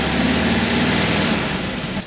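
A Porsche 912 flat-four engine idles with an exhaust leak ahead of the muffler, a steady close, loud rumbling drone with faint rapid ticking pulses running through it and no talking.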